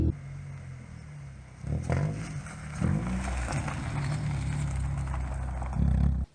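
A $1500 track car with a loud new exhaust drives by close, its engine roaring and revving in steady low rumbling surges over about six seconds, swelling louder near the end.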